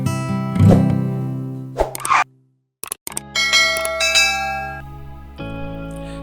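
A bright notification bell chimes several times in a loud, jingly sequence with a short silent gap partway through, ringing out alone with no talking.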